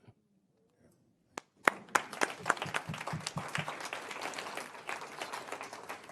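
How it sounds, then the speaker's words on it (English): Applause at a faith-based community conversation: a few isolated claps break a near silence, then settle into moderate, fairly light clapping from a modest audience that continues to the end. "So I'm glad y'all didn't clap that hard"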